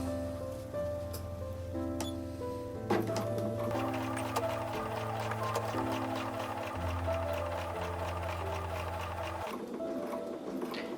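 A sewing machine stitches a fabric face mask, including back stitching, as a rapid, even mechanical patter with shifting motor tones, close and continuous before stopping near the end.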